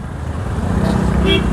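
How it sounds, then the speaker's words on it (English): A KTM 390 Adventure motorcycle engine labours at low RPM, a steady close rumble with uneven chugging throughout, plus a brief higher tone near the end. "You can feel the engine struggling on lower RPMs."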